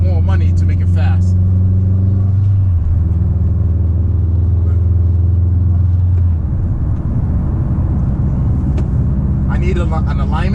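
A Subaru WRX STI engine hums low and steady while driving, its tone shifting partway through as the road rumble grows, with someone talking over it at the start and end.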